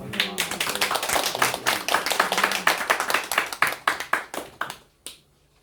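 A small gathering at a year-end general meeting and party claps for a pastor, the crisp, distinct hand claps thinning into a rhythmic patter that slows and stops, then silence.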